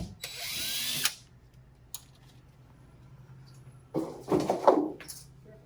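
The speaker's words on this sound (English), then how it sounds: "So now he's just drilling the other hole" A power drill bores a hole for a back door security bar, whining for about a second, followed by quieter handling clatter and a second burst of drilling with scraping.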